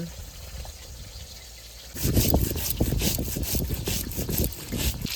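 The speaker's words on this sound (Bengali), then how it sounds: "এবার জিরেটা বেটে নেব" Cumin seeds ground by hand on a grinding stone in a kitchen where river rohu curry with drumsticks is being made; after about two seconds of quiet, a close, steady rhythmic scraping and rubbing begins and continues to the end.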